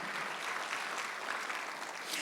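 A church congregation claps during a Sunday service, a dense steady wash of hands throughout the short stretch.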